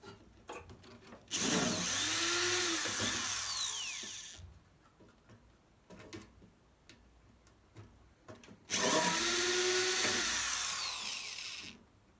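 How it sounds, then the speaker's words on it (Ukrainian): A power drill unscrews bolts from an Italian microwave oven being taken apart, in two close, loud whirring bursts of about three seconds each, the motor pitch rising and falling, separated by a quieter pause with light handling clatter. "відкручуємо всі 4 болта"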